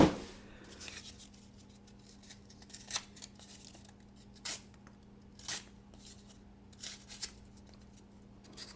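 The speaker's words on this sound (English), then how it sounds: "cut through some double-walled cardboard there" A pointed kit tool cutting through taped double-walled cardboard, giving a series of short, close, crisp rasping cuts spaced irregularly over a quiet background.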